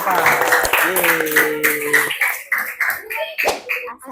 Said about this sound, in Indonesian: Beri tepuk tangan yang meriah untuk kelompok 4